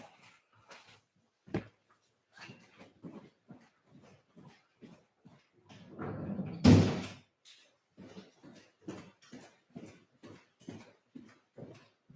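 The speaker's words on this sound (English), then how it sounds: "I'm just going to go and shut my door" A door is pushed shut with a single solid thud, framed by quiet footsteps and light shuffling before and after.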